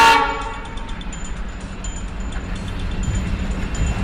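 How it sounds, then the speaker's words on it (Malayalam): Train arriving in the Indian Bike Driving 3D video game: a loud horn toot at the start, then a steady rumbling rail roll that builds slightly toward the end, with no talk. "ട്രെയിന് വരുന്നത് നമ്മൾ വെയിറ്റ് ചെയ്ത് നിൽക്കുകയാണ്."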